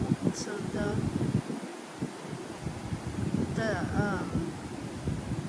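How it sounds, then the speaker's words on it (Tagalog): Strong coastal wind buffeting the microphone on an island shoreline, a steady broadband roar throughout, with voices talking over it. "So windy."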